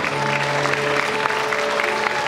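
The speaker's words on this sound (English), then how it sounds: "Let's give a big round of applause to our Marine Mountain trainer." Crowd at a Sea World dolphin show claps for a couple of seconds, a steady, moderately loud burst of applause with a faint sustained tone and voices underneath.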